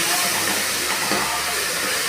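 Ginger garlic paste sautés in hot oil with a loud, constant broadband hiss that holds steady for a couple of seconds without pause.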